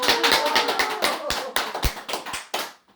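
An audience at a Buddhist dharma talk at Singwangsa temple claps in a quick burst of sharp, distinct hand claps that thin out and taper off over a few seconds.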